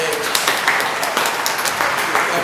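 Recorded applause sound effect dropped into a podcast, a continuous wash of crowd clapping running evenly throughout with some voices faintly underneath.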